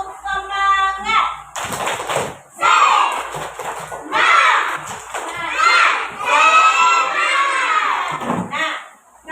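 A classroom of children loudly chants the tepuk semangat clapping routine in unison, energetic shouted phrases mixed with claps in repeated bursts, following a brief adult voice at the start.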